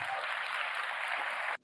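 Brief burst of dense audience applause at a talk, a steady wash of many hands clapping that cuts off abruptly at the end.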